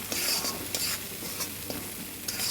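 Mustard paste and green chillies sautéing in oil for a koi fish curry, a steady close sizzle with repeated spatula stirring and scraping against the pan.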